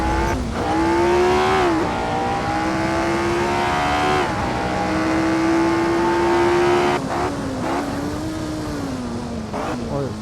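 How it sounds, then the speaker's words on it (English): A race car engine in the Assetto Corsa racing game at the 1967 Teretonga International, Tasman Series, revs loudly and continuously, its pitch climbing and dropping with gear changes, close and steady throughout. "I rev the engine so much in there."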